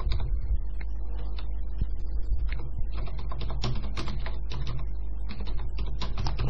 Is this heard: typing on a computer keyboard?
yes